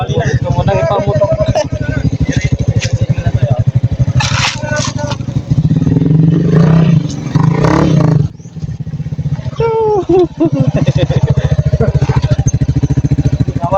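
A motorcycle engine drones and revs while the bike struggles along a rough, difficult trail near Tantangan, South Cotabato, with loud talking over it.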